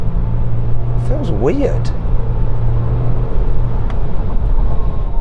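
A Volkswagen luxury pickup truck accelerates from 0 to 60 with a loud, steady low engine drone from inside the cabin, and a voice speaks briefly over it.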